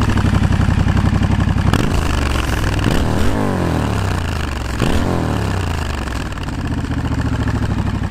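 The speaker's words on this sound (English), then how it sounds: "even though this is a parallel twin and that's a V-twin, they make a surprisingly similar noise" Indian FTR S V-twin and Triumph Scrambler parallel twin motorcycle engines idle loudly and close, with several sharp throttle blips rising and falling over a steady rumble.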